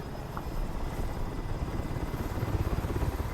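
An MH-60L helicopter in War Thunder drones steadily with a rapid, pulsing rotor chop and a low engine rumble, held at an even moderate level the whole time with no talk.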